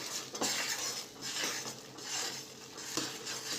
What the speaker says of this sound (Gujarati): થોડી વાર આપણે હજી શેકી લઈશું એને